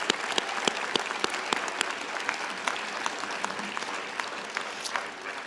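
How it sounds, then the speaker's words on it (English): Commencement audience applauding the graduates at a university ceremony in Idaho Falls, a large crowd clapping steadily with distinct nearby claps standing out, sustained for several seconds. "Let's give all of our graduates a round of applause as well."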